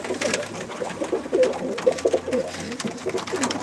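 Turkish yanargöz and mısırga tumbler pigeons coo in a loft, a close chorus of throaty, pulsing calls that rise and fall in uneven bursts, with no talking.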